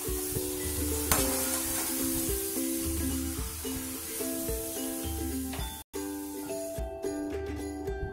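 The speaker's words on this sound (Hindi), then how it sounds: "ये हमारा उड़द दाल का पापड़ डीप फ्राई होकर रेडी हो गया है" Urad dal papad deep frying in hot oil in a kadhai, a steady close sizzle and bubbling hiss that runs throughout, with light metallic clinks and stirring near the end.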